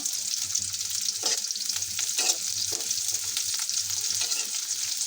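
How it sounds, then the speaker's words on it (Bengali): Continuous crackling sizzle of onions frying in hot oil for a chicken curry, close and steady, with occasional soft scraping from stirring. "পেঁয়াজটা ভেজে নিই।"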